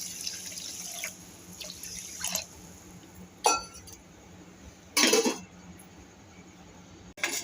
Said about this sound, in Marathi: त्यानंतर आपल्याला पाणी टाकायचं आहे यामध्ये.